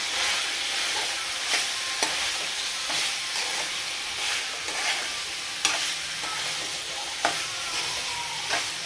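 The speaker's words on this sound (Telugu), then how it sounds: "దీన్ని బాగా కలుపుకుందాం." Drumstick chicken curry stirred in a frying pan, with a steady broad sizzle and a few sharper scraping clicks of the spoon against the pan, close and moderately loud, with no talking.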